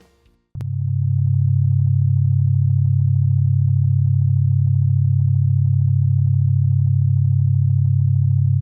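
An iDoser-style digital drug tone, a pure sine wave, begins with a sharp click and then holds as a loud, steady, low, unbroken hum for about eight seconds, alone.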